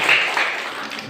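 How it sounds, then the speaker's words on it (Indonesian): Students in a classroom applaud a presenting group: a short burst of hand clapping that starts strongest and tapers off within about a second. "tepuk tangan untuk kelompok 4"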